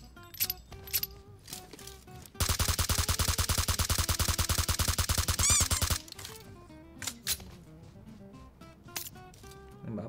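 Rapid automatic gunfire from a PUBG Mobile match at Novorepnoye, a loud, tightly spaced burst lasting several seconds, framed by scattered single shots and clinks of ejected casings before and after.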